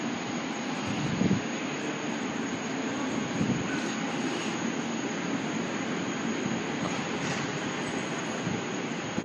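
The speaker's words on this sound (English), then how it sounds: "Planes at Heathrow." Airplanes at Heathrow Airport give a continuous, broad roar of jet engines that stays steady throughout, heard from a distance with no talking.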